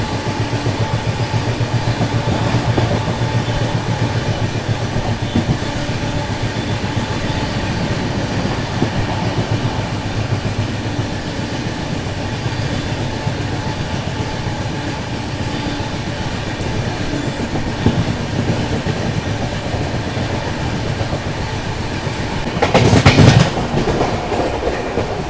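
The Bilaspur Rajdhani Express runs through Dholpur Junction with a loud, steady rumble and rhythmic clickety-clack of wheels over rail joints, and a brief sharper burst near the end.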